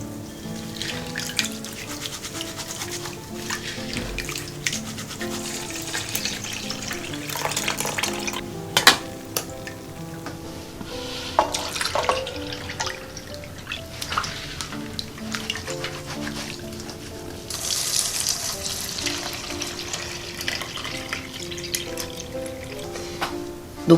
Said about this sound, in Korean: 불려준 물에 이렇게 비벼서 녹두 껍질을